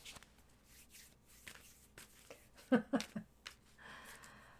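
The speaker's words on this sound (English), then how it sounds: "Shuffle away." Tarot cards are shuffled in a quick rapid riffle after soft handling and quiet rustles, close and faint, with no talking.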